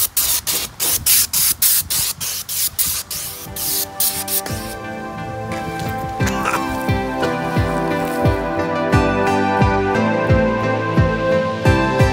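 Pepper spray discharges in a series of short bursts aimed at a motorcycle outdoors, giving way to a steadier hiss and mechanical clatter, loud and close with no talking.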